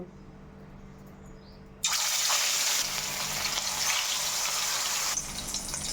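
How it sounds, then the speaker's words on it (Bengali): Hilsa fish pieces drop into hot mustard oil in a wok, and a loud dense sizzle starts abruptly, roars steadily for a few seconds, then eases, all close up. "কড়াতে আমি সরষার তেল দিয়ে দেব তেলটা গরম হয়ে গিয়েছে এর মধ্যে আমি এখন মাছগুলো দিয়ে দেব"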